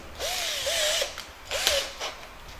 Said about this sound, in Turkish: Tek yapacağımız işlem geriye delmemiz kalıyor.